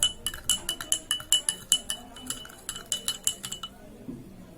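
A spoon clinks repeatedly against a glass as garden soil is stirred into water, a quick run of bright taps and rattles that stops abruptly near the end, close and fairly loud.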